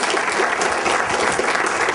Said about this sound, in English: So let's give a nice hand applause for Mr.